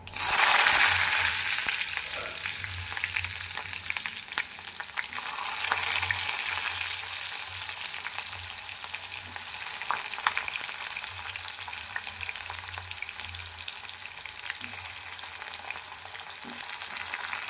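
Onions frying in a pan with cumin, giving a steady hissing sizzle that runs throughout with occasional stirring scrapes, close and moderately quiet, no talk.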